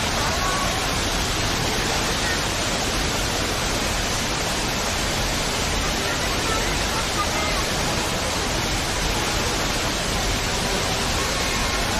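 A waterfall in Singapore, heard as a steady, dense roar of falling water that fills the scene without a break. Faint crowd chatter and voices sit low beneath it.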